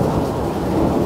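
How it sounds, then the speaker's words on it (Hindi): Thunder rumbling during heavy rain in a windy storm, a loud low continuous roll layered with the hiss of rain, close and sustained through the brief moment with no speech. "बादल बादल कितना गरज रहे हैं ना"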